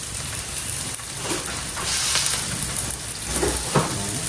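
Crab dish sautéing in a pan over lowered heat, a steady soft hiss and sizzle running throughout with a few brief louder pops near the end, close and alone without speech.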